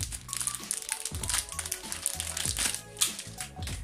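A sound card package being unboxed up close: crisp crinkling and crackling of plastic and cardboard handled continuously at moderate volume, with no talk.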